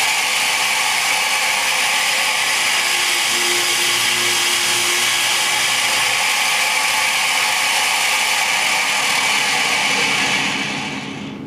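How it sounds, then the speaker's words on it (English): A line boring machine plunges its drill down into lumber to a set depth, giving a steady, loud mechanical whir with a ratcheting, clicking texture that holds throughout and fades slightly at the end. "Once you turn it on, plunge the handle down until you reach that stop,"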